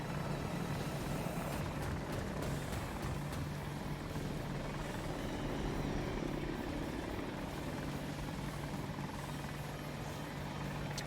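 Helicopter flying in a video game, a steady, continuous rotor thrum and engine whine holding at an even level throughout, fairly near, with no talk.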